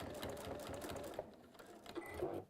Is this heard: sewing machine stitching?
yes